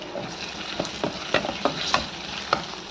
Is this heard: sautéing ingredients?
yes